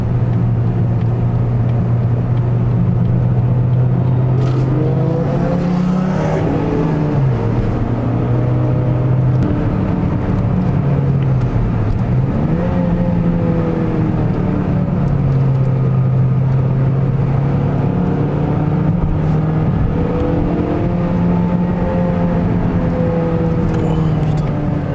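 A car's engine drones steadily throughout, its pitch rising and dipping with gear changes and acceleration, loud and close, with a GT3 race car on the Nürburgring somewhere nearby; voices talk faintly beneath the engine.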